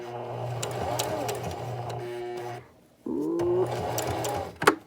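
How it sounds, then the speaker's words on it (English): A hand-cranked sewing machine stitches in short whirring bursts, pausing briefly midway before another run of stitching, fairly close with a brief exclamation from a voice. "I might even do a couple stitches without the foot and just with the hand crank"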